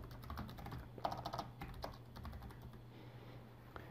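Typing on a computer keyboard while entering an email body: quick, close key clicks in irregular bursts with a few louder taps, thinning out toward the end, with no talking.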